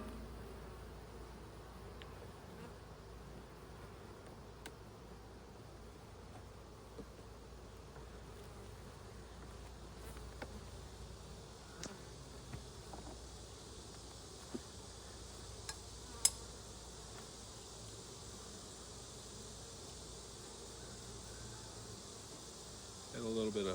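Honey bees swarm around an open hive box with drawn comb in the top super, a steady, close buzzing hum that runs without a break, with a few faint knocks from the hive box.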